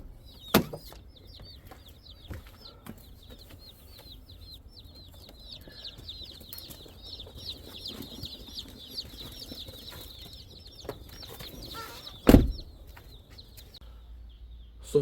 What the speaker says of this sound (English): get these chickens out of the truck and into the brooder